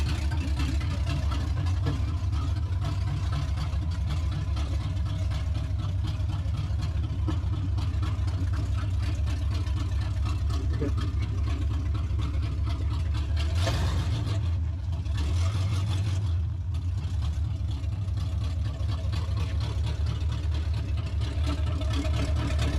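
Chevrolet Camaro V8 running with open headers, a steady deep rumbling idle held for a long stretch, close and loud, with a brief dip partway through.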